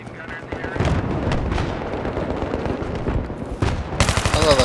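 Sustained automatic gunfire rattles through a multiplayer match of the video game Battlefield 3 on the Strike at Karkand map. The dense bursts are loud and close, with a sharper burst near the end.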